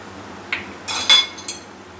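A spoon mixes turmeric, red chilli powder and black salt into tomatoes for a sweet tomato chutney: a few light clinks and scrapes against the pan, close by and fairly quiet.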